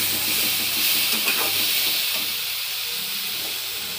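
Bihari-style jackfruit curry (kathal ki sabji) frying in oil in a pan, a steady close hiss and sizzle with faint stirring, no talking.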